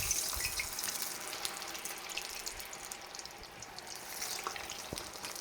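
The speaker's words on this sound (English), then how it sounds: "Okay, the oil's up to temp. I'm gonna start adding the French fries." Fresh-cut French fries go into hot frying oil for Canadian poutine, a steady bright crackling sizzle that fills the clip at an even, close level with no talking.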